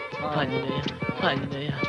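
Horse hooves clip-clop in a quick, even rhythm, close and fairly loud, with the horse's voice mixed in and steady background noise.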